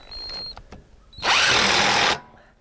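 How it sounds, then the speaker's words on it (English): A power driver runs once for nearly a second on a bolt during assembly of an HD38 sawmill's bandwheels and blade guides. The burst is loud, close and steady, and only faint workshop noise comes before and after it. "Best way to tighten it down is with an impact driver."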